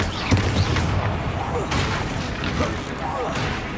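Confringo blasting curses explode repeatedly in the video game Hogwarts Legacy, loud booming bursts in quick succession. A voice shouts over the blasts.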